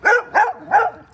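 A dog barks three times in quick succession, loud and close, during an outdoor walk where it carries a stick.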